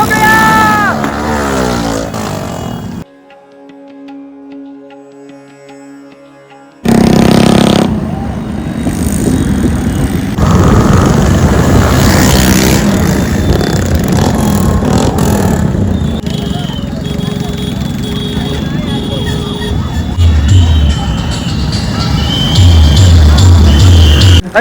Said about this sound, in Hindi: आवाज आ रही है डीजे की और गाड़ियों की